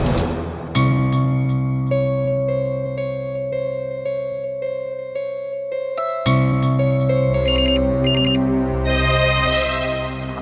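A phone rings unanswered during a call to a mechanic after a punctured tyre, a loud repeating electronic ringtone melody in bursts, with no voices.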